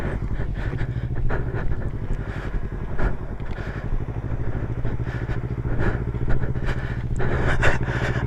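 A learner rides a motorcycle on a practice lap, its engine running steadily up close with rapid rhythmic firing and occasional revs, accompanied by faint clatter throughout.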